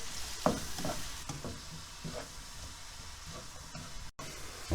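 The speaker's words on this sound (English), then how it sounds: "I've been sauteing this for about 2-3 minutes" Salmon coconut curry ingredients sautéing in a pan, a low continuous sizzle with occasional stirring scrapes and clinks, fairly quiet and close, with no talking.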